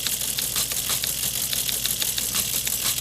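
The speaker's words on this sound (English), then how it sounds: "Want the typing sound?" Rapid, steady clatter of typewriter keys played as a sound effect, many sharp clicks in quick succession at an even, fairly loud level with no voices over it.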